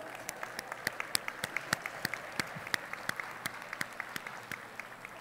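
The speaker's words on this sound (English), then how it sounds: "Applause for you." An audience at a keynote talk of a zero waste conference applauds, a thin, fairly distant patter of individual claps recurring in a loose rhythm, with faint murmuring in the room.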